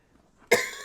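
A single sharp cough bursts out close and loud after near silence, from someone who has been talking too much during a gaming chat.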